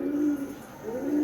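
Pigeons kept for sale, including crested and muffed birds, give two low, rolling coos close by, one at the start and one at the end, with no talk.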